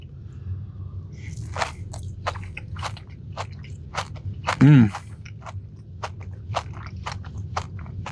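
Someone bites into a crunchy Dubai chocolate brownie and chews it: a rapid series of sharp crunches up close, with a brief voiced sound partway through.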